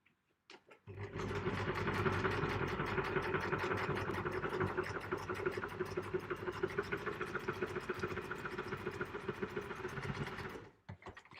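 A sewing machine stitches a quilt roof piece in one continuous fast run of rapid mechanical clatter lasting about ten seconds, close and steady, then stops abruptly, with no speech.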